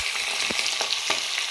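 Meat and onion fry in a pan over low gas, a dense continuous sizzle with a few soft scrapes from stirring.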